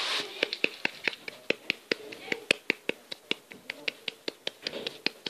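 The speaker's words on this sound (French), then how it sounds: "J'ai gagné, bravo, on applaudit." A small group claps in a steady, fairly quick rhythm of sharp, distinct slaps, moderately close and not very loud, celebrating a win at a tabletop party game, with some faint voices underneath.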